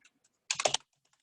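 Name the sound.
typing on a computer keyboard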